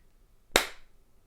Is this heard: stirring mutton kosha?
no